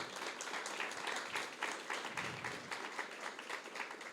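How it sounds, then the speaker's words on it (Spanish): A church congregation applauds steadily at a Sunday service, a dense wash of many hands clapping that holds at an even level throughout. "Dale un fuerte aplauso a Él"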